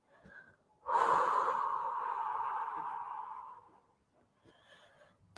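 A long, slow breath pushed out during an arm stretching exercise, a soft airy rush that starts abruptly and fades gradually over nearly three seconds, close and alone.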